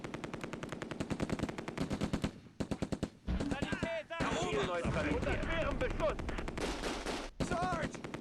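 A .30 caliber machine gun rattles in rapid bursts in the WW2 tactical game Close Combat II, with loud repeated fire, short pauses between bursts and other battle noise and voices mixed in.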